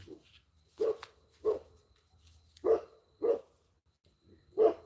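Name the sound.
coyotes howling at night on a farm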